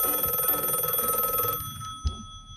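Electronic telephone bell ringing steadily and loudly for about a second and a half, then cutting off abruptly, followed by a near-silent pause and a single soft thud.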